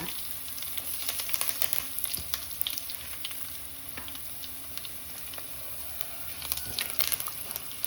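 Garlic and curry leaves frying in hot oil make a steady close sizzle with scattered sharp crackles and pops, plus light stirring scrapes, and no talking.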